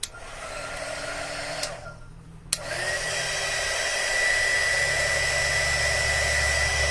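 Hair dryer blasting air to dry craft paint, a steady loud rushing hiss that cuts out briefly, clicks back on and then runs strongly to the end without any speech.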